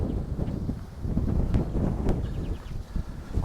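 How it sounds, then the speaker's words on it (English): Gusty wind at a sunny beach blows steadily across the microphone as a broad, rumbling roar that swells and eases, with faint rustling and no voices. "Quite breezy again today,"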